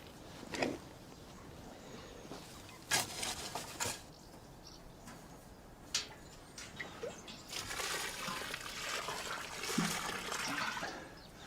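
Green water from a water butt is poured onto a newly planted rose in a garden, giving soft trickling and splashing with a few sharper knocks, quiet and close.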